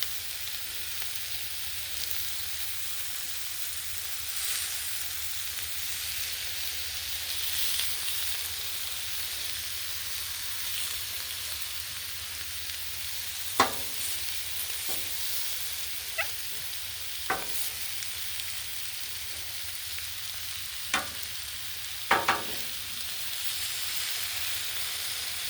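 Country style ribs and smashed potatoes fry on a Blackstone griddle with a steady, close sizzle. A few sharp scrapes and clinks from a spatula stand out near the end, and no one speaks.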